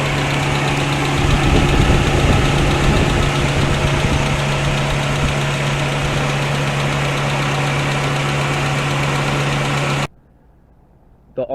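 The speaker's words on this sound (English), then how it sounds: "It's not powerful, but what a great sounding engine." A Geo Tracker's 1.6-litre four-cylinder engine idles steadily and loud, with a smooth, even hum and a light, rapid ticking like a sewing machine, holding constant for about ten seconds before cutting to near silence.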